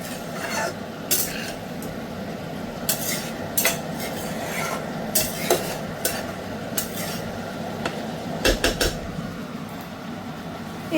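Eggplant being stirred into a simmering curry in a pan, a soft background sizzle broken by repeated scraping and clinking spoon strokes in irregular bursts, close by with no talk.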